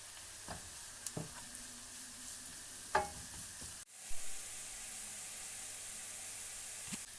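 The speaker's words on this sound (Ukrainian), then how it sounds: "До цибулі додаємо морку і обсмажуємо 3 хвилинки." Low, steady sizzle from onion and carrot frying in a pan, with a few scattered clinks and scrapes and one louder knock midway.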